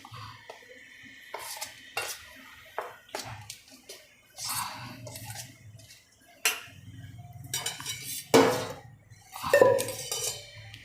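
Chopped onion being mixed with red chilli powder and a pinch of salt in a bowl, heard as a spoon clinking and scraping against the bowl in irregular bursts, near and distinct, with short pauses between strokes.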